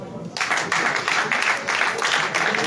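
A crowd at Peter Obi's presidential inauguration in Abuja claps in a dense, steady wash of many hands. The clapping starts abruptly after a brief quiet moment and continues loud and close without letting up.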